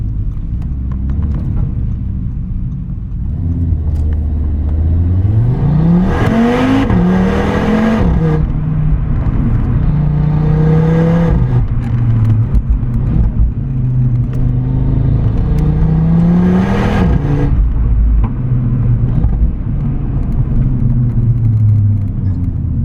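An Audi RS3 five-cylinder engine revs hard and accelerates, with rising and falling pitch sweeps through the gears, loud and close. The engine is continuous with no talk over it.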